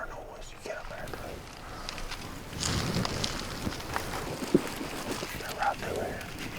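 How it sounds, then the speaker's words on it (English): Wind gusts rush across an open outdoor spot during a spring turkey hunt in Mississippi, a broad steady whoosh that swells midway, with quiet whispered talk underneath. "Luckily this wind's covering our noise."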